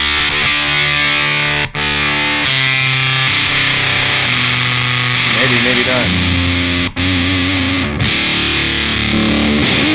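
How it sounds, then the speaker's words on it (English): Heavily fuzzed electric guitar through a fuzz pedal with an octave-up effect plays loud and thick, with sweeping tonal shifts as notes slide around; a short spoken remark slips in briefly. "That's a huge, like, massive tone sweep."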